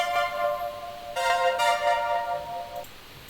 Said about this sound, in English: a supersaw is usually just a bunch of saws together